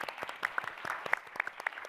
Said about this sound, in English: So another round of applause for them, please.